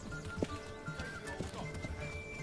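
In the medieval village game Manor Lords, a horse's hooves clip-clop steadily at moderate distance while the animal whinnies, over a low, busy background.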